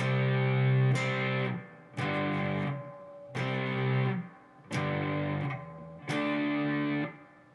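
A distorted electric guitar slowly plays the verse riff of a rock song: six struck power chords including D5, each ringing about a second with short gaps between.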